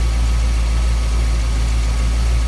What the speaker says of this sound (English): Look at that smooth, how smooth that engine runs